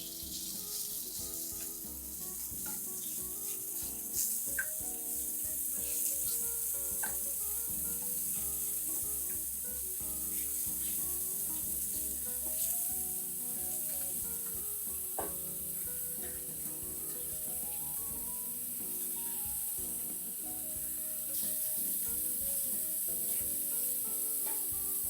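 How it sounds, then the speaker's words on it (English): Beef pieces browning in hot oil in a pot for a Massaman curry, a steady dense sizzle throughout with occasional stirring scrapes and clinks, close and continuous, no voices. "We're going to brown it on all sides"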